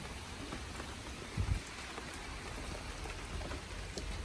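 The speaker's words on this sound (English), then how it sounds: "Yeah, it's raining" Steady rain falls outside a house with a yard, a soft, even hiss of drops with a brief low thump partway through, heard from nearby.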